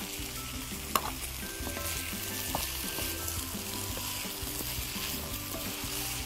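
Vegetables sizzling in a hot pan while cooking a chicken pasta salad dressed with sesame oil, a steady loud frying hiss with stirring clatter and a sharp clink early on, close and without talk.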